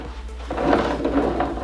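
The drawer of a homemade mobile garage storage cart slides open and shut, a short rumbling glide with a soft knock, close and fairly loud.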